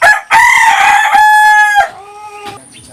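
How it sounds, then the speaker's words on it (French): A rooster crows at morning in Ecuador, a loud, close cock-a-doodle-doo with a long held middle note, followed by a softer, trailing second call near the end. "Et les coqs chantent le matin pour nous réveiller."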